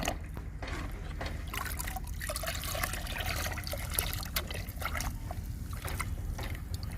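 Homemade liquid plant fertilizer for okra, tomato and bitter gourd plants being stirred and mixed, giving a continuous soft sloshing and trickling of liquid with faint splashes, close but quiet and steady throughout.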